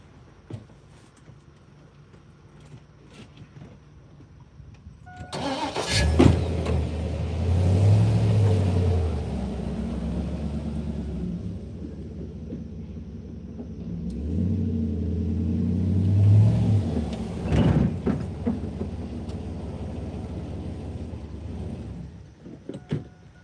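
A pickup truck engine fires up after a quiet start, then runs with two sustained revving pushes separated by a lower idle. The engine is close and loud, with low mechanical rumble, and no talking.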